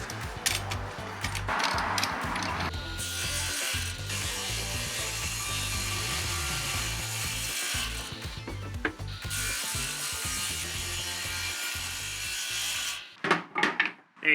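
Saw cutting through wooden pieces for a wooden monitor frame, a steady loud rasping cut running for about thirteen seconds and then stopping, followed by a few short knocks and clatters of wood close by.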